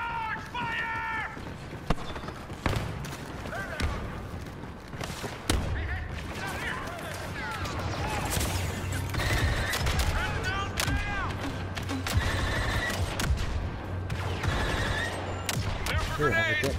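Blaster fire in Star Wars Battlefront II crackles in scattered sharp shots amid battle noise and a low rumble, with voices calling out over the fight.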